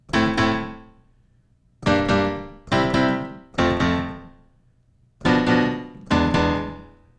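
Six separate piano chords of a basic hip-hop jazz progression struck one at a time with pauses between, each ringing and fading, played alone.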